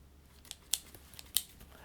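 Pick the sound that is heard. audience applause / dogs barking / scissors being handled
scissors being handled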